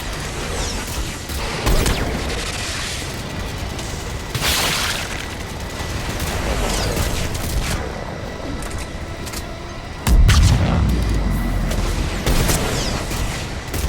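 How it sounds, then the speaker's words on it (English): Missiles launch and explode in the Mass Effect game as deep booms and whooshing blasts roll through a dense, continuous battle din, with a heavy low rumble surging near the end. "That's it for the missiles."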